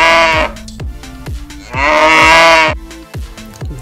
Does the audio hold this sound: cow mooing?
yes